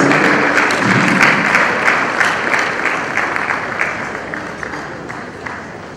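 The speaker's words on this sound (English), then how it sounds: "Please, a round of applause for him as he takes the stage." Crowd at an Edo State education policy launch event gives dense, loud applause as a speaker takes the stage, continuous clapping that gradually eases in volume.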